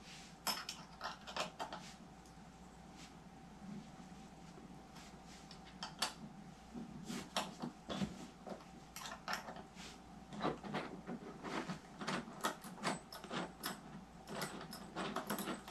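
Small metallic clicks and clinks from unscrewing screws on the side of a Secretlab Dark Knight gaming chair, scattered faint ticks over a low room hum with no talking.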